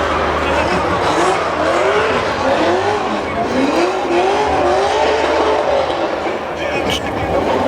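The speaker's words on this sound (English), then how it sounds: "The drifting is starting." Cars drifting at a tuner car show event in Florida, loud rising engine revs and sustained tire squeal sweeping across the scene amid crowd noise, with people talking nearby.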